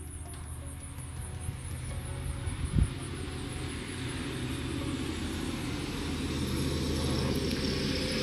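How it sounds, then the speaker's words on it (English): Cars pass by outside as a steady, distant low traffic rumble that slowly swells louder, with one brief knock partway through. "Sorry about the cars going by."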